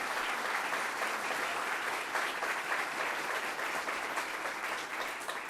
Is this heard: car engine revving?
no